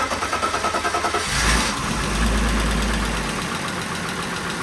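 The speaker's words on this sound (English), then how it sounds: "Okay, it's running, it's idling." A car engine idles close by just after an oil change, with a rapid, even ticking pulse clear at the start, then settling into a steady, fairly loud running drone.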